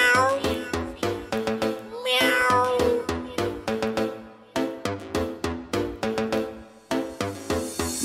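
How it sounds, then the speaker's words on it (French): Cat meows repeated in time over a danceable French remix beat, loud and rhythmic, the mewing sample chopped into regular pulses above the steady bass and percussion. "Miaou."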